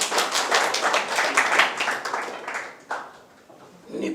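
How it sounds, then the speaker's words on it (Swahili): Hands clapping in a school classroom, a fast, steady run of claps for about three seconds that then fades out. "piga makofi"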